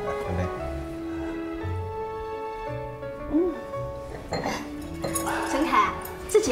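Glasses clink in a toast at a home dinner table, several light, bright clinks scattered among people talking and dishes faintly rattling.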